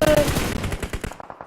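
Rapid automatic gunfire from the mobile battle royale game PUBG Mobile, heard during a competitive match: a dense burst of close, loud shots that thins into scattered single reports.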